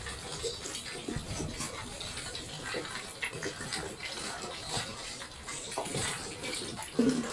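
Water poured or running steadily in a rural farm setting, a continuous splashing wash throughout with faint voices and animal sounds in the background.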